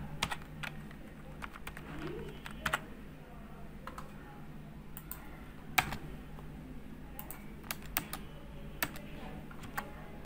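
Fingers type HTML code on a computer keyboard, an irregular patter of light key clicks with brief pauses over a steady low room hum, heard close and without speech.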